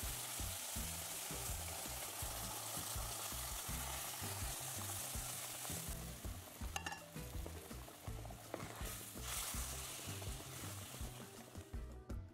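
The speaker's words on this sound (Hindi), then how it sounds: "तो ऐसा ही अब दूध हम सूजी में डालने वाले हैं।" Hot boiled milk added to roasted semolina in a pan for sooji halwa, a continuous loud sizzle and bubbling with stirring scrapes throughout.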